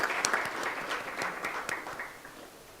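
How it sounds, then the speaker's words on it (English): An audience applauds a panel at a regional prosecutors meeting in a dense burst of clapping from a moderate-sized crowd, steady at first and gradually tapering off over a few seconds. "could we give them a very big round of applause?"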